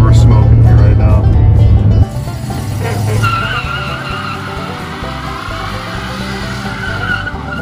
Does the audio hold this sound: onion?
no